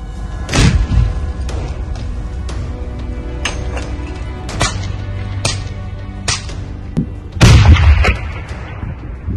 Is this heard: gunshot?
yes